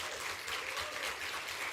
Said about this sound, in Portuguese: eu quero uma salva de palmas para vocês